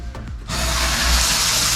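Water gushes from a large shower head in a clean campground bathroom, starting abruptly after a brief handling sound and then holding as a loud, steady, broadband hiss of strong flow, close by.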